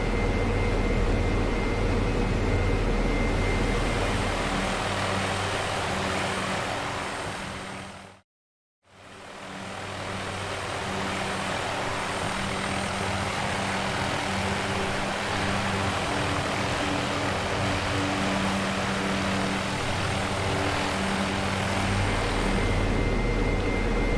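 Simulated aircraft engine drone in Prepar3D flight simulator during an approach to land at Adelaide airport, a steady loud hum with tonal layers that briefly cuts to silence partway through, then resumes unchanged, with no talking.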